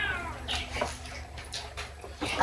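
Six house cats meow faintly in a home, giving a few short, rising mews over low background noise with no talk.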